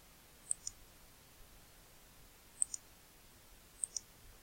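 Computer mouse clicks while a capture-page background is being edited: three quick double clicks, sharp and close, spaced a couple of seconds apart over a quiet room hush.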